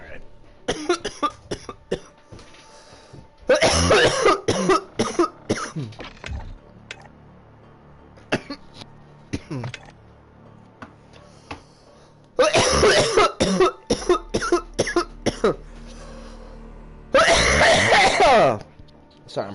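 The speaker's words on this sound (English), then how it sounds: "I'm probably coughing the fuck out." A person coughs in loud, harsh fits, with several clustered bursts spaced across the stretch and quieter clicks and shuffles between them.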